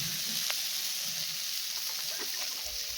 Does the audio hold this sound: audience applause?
no